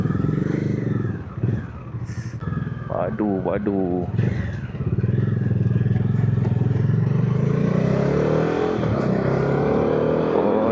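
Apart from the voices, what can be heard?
motorcycle riding and revving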